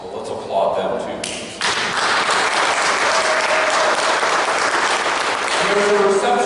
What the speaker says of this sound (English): So let's applaud them too.